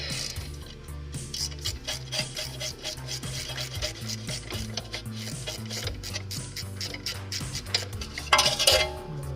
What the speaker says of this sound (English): Next, we're going to remove a 10mm harness bolt.